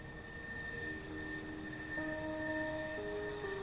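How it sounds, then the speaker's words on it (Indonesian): A train pulls into a station with a steady rumble and long sustained tonal whines, like brakes or horn tones, shifting in pitch as it slows; no voices. "Pengumuman berkumandang, kereta akan segera masuk."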